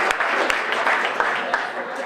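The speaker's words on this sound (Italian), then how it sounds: "Facciamo quindi un applauso intanto a Mattia Milani, rover." An audience at a scout event claps, a loose spatter of applause with a few sharp distinct claps standing out, moderately loud and continuous.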